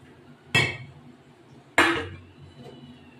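A lid goes onto a cooking pot of prawns with pumpkin and potato; two distinct metallic clanks, about a second apart, each fade quickly into a quiet background.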